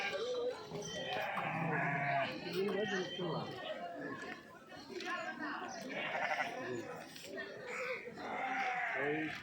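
Sheep and lambs bleat at a busy weekly livestock market in Kadiri, Sri Sathya Sai district, mixed into loud constant crowd chatter and people haggling throughout.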